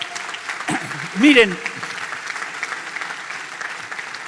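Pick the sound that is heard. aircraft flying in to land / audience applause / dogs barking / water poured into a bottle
audience applause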